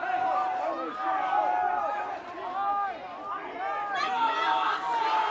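Crowd noise at a high school lacrosse game between Oak Park and Simi: a steady, loud babble of shouting and cheering spectators throughout, swelling slightly near the end.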